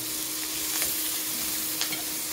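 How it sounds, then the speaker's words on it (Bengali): Spice-marinated food frying in a pan, a steady close sizzle with light stirring scrapes throughout. "এই জন্য একটু মশলা দিয়ে মাখাইয়া তারপরে ভাজতেছি।"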